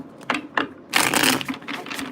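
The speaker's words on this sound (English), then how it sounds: "Let me go ahead and start shuffling." Tarot cards are shuffled by hand close up, quick papery riffles and slaps in short bursts, with one longer flurry in the middle.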